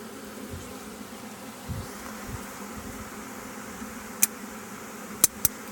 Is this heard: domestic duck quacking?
no